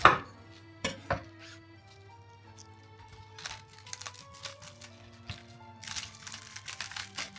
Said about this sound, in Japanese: 白菜は芯に切り込みを入れたら、その切り込みに指を入れ2つに割ります。